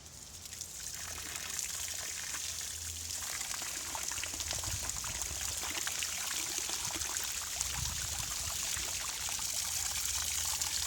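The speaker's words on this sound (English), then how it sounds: "So now I can go shut the trap door and you guys will see the water flowing down." Water pours steadily down a newly installed wooden flume feeding a microhydro waterwheel, a continuous close rushing trickle without talk.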